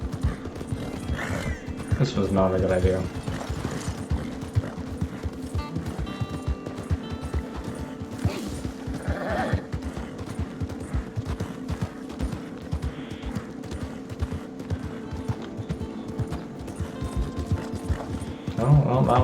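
A horse gallops after a wagon in Red Dead Online, its hooves drumming in a quick, steady rhythm with a neigh partway through, while a player talks over the game sound.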